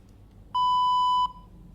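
A single steady electronic beep, clear and pure-toned, lasting under a second against faint background hiss.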